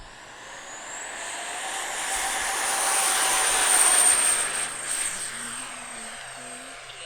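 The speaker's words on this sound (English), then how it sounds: "we got the MiG-29 up in the air" Arrows RC MiG-29 model jet with twin 64mm electric ducted fans taking off outdoors, a steady high-pitched whine that swells to a peak mid-clip and then eases off as it passes, with no talking.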